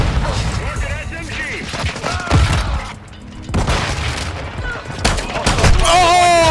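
Rapid SMG gunfire in a fast multiplayer shooter video game, loud bursts and blasts mixed with explosions and game sound effects in a dense, chaotic firefight.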